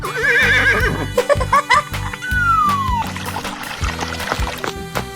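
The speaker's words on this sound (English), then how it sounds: "Horse." A horse whinnies in a 3D animal sliding game, a short descending neigh heard over steady looping game music and effects, with excited voices around it.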